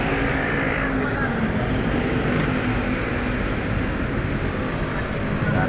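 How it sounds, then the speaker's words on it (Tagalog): A Hyundai Accent engine with a check-engine fault runs rough and misfires after rodents chewed an injector wire; a steady, dense mechanical drone continues without a break, close and fairly loud. "nagkakaroon ng check engine, tapos palyado yung makina."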